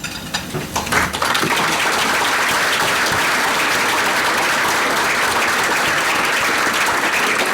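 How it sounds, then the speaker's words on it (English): A large crowd of guests at a Korean American Day celebration applauds honorees, a brief scatter of claps swelling into loud, sustained, even clapping. "give everybody a big round of applause for coming"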